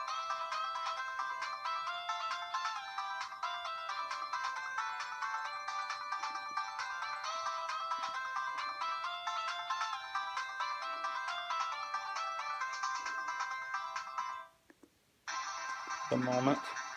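A Sanyo RL 4920 2G bar phone plays its ringtone melody, a bright electronic jingle of quick repeating notes, close and clear for about fourteen seconds, then cutting off before a short noisy handling sound.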